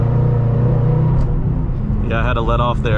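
A 2014 Shelby GT500 on its stock exhaust is floored in third gear, its engine rumbling loud and close with a strong low drone, then easing as the throttle lifts while the driver talks over it.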